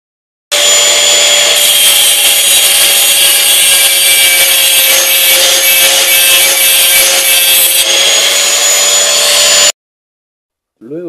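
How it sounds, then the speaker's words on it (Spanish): Angle grinder shaping a metal piece into a metal-detecting tool, a loud steady high whine and grinding rasp held for about nine seconds before stopping abruptly. "a darle una pasada con la pulidora, con la moladora, como quieran llamarle, para darle forma y que no quede puntiagudo"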